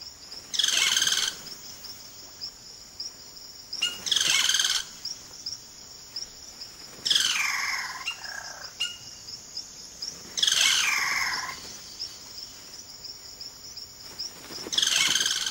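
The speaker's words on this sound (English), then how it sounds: "Cacique males now go about the important business of attracting a partner by puffing up their plumage and showing off their remarkable vocal range" Male cacique birds in the Amazon rainforest give courtship song in five loud, bright bursts of rich calls and whistles spaced a few seconds apart. A steady high insect drone continues between the bursts.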